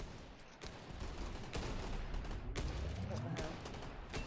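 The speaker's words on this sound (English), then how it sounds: "I'm using minigun." Minigun fire in an Oculus Quest 2 VR shooter comes as sustained rattling bursts with sharp onsets, mixed with game ambience and a player talking over it.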